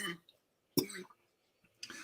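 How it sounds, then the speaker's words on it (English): A woman coughs outdoors in short bursts, with a few dry coughs separated by silence. They are moderately close and not loud. "Listen to her coughing."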